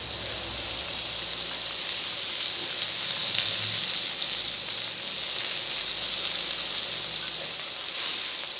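Fish frying in a pan as oil is poured in, a loud, steady, close sizzle and hiss that stays constant throughout.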